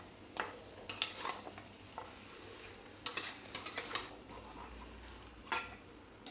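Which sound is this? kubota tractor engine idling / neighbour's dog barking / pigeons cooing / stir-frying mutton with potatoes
stir-frying mutton with potatoes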